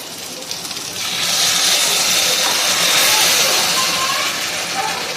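Spicy thecha sauce with peanuts hits a hot, oily frying pan and bursts into a loud, steady sizzling hiss that swells and holds, close up, with a voice briefly heard at the start.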